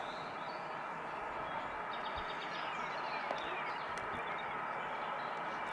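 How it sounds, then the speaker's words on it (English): A train rumbles past steadily in the background at an outdoor cricket ground in Belgium, a low continuous roar with faint bird chirps above it and no talk. "As a train goes past somewhere in the background"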